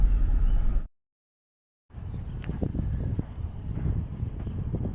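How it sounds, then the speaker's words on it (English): Wind gusting across Detroit Lake in Minnesota as a storm moves in, a steady broadband rush buffeting the microphone, cut by a second of silence, then resuming with rumbling gusts. "Well, there's Detroit Lake, and it's windy."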